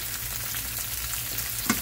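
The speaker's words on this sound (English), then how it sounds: "I can just throw them in the pan here and get them started" Seasoned vegetables frying in a pan, a steady close sizzle and crackle with a soft stir or clink near the end, no voices.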